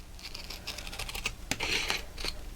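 Paper trimmed off the edge of a handmade mixed-media photo folio, a brief run of soft snipping and crisp rustling strokes with a sharper cut near the middle, close and fairly quiet, no voices.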